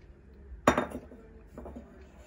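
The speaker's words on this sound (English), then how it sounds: "And we're going to whisk, and we're going to mix." A whisk clinks against a bowl as eggs are beaten into creamed butter and sugar for a sorrel cake, one sharp metallic clatter followed by a second, softer scrape, close and fairly quiet.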